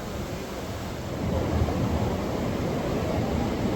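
Kalu waterfall in Maharashtra, a three-step fall, sends up a steady broadband roar of rushing water that swells slightly midway and continues without talk.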